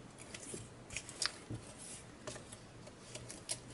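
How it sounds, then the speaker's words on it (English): Scissors snip through packing tape on a package, a run of quiet, crisp cuts and soft crackles heard close up against a faint background hum. "I think I might actually have to find my scissors for this."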